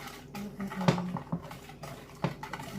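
A spoon stirs cupcake batter mixed with Maxwell House International Vienna instant coffee in a bowl, giving faint soft scraping and a few light clinks against the bowl's side.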